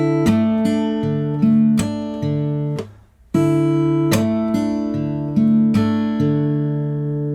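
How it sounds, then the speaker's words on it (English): Fingerstyle acoustic guitar plays the opening bar of a song in D: plucked notes and thumb-picked bass ring out in a steady rhythm, with a brief pause midway before the phrase resumes, clear and close. "So the 1st bar of the D sounds like this."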